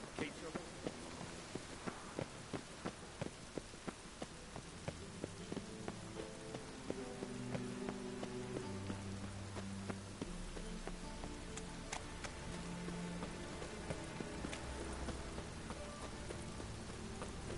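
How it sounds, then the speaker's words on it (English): Steady rain pours in The Witcher 3: Wild Hunt, a dense, even patter on surfaces that runs throughout, with faint footsteps and voices now and then. "I like rain."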